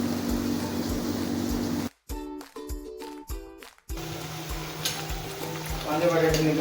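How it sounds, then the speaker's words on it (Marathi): Potato bhaji fritters deep-frying in hot oil give a steady, loud sizzle that breaks off for about two seconds. Then a stretch of choppy clattering and faint voices comes in before the crackling resumes at full strength. "मी सगळ्या बटाट्याची भजी तळून घेते"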